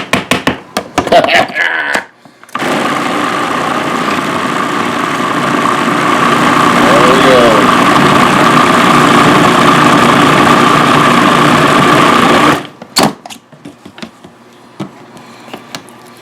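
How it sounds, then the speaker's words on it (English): A food processor purees cooked pumpkin in a loud, steady whir that holds for about ten seconds, with short bursts and handling noise before and after. "It's going to give your food processor a little bit of a workout"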